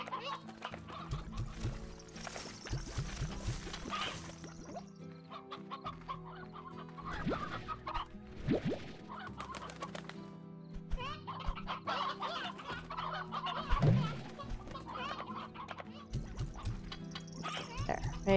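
Hens cluck repeatedly in the Slime Rancher video game, busy overlapping clucks with a few louder squawks over game music and effects, with no talking.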